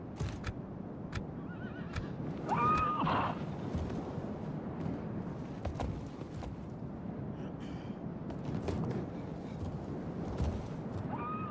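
Horses in a medieval strategy battle neigh and whinny in a few short calls amid a steady rumbling din of hooves and battlefield noise, with Mongol-like horse archer mercenaries.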